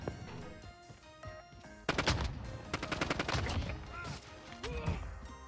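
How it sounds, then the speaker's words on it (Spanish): Shotgun and gunfire in a shooting video game, a rapid series of sharp loud blasts clustered in the middle and end, heard close amid game effects with a voice talking faintly at times. "Y la escopeta."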